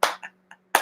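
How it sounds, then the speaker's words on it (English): A handful of hand claps at a live tarot-reading stream, with two firmer claps at the start and end and softer ones between. The claps are close, brief and unaccompanied. "Let's give a slow clap"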